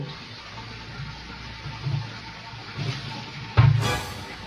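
A tap runs steadily into a sink at home, giving a constant close wash of water with a brief louder gush near the end.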